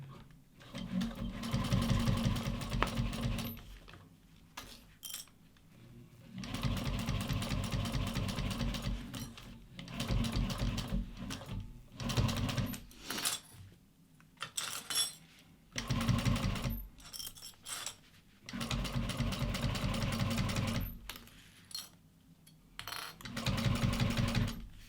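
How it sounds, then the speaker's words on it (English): Juki 1541S industrial sewing machine top-stitching nylon at a 5mm stitch length, heard close up as a loud, fast mechanical chatter in several long runs. Short pauses separate the runs, and there is no talking. "I'm going to top stitch along this top edge, add an 1/8 of an inch seam allowance."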